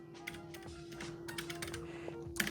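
Fingers tap quickly on an iPad Pro keyboard, a close, irregular run of light clicks over a faint steady hum.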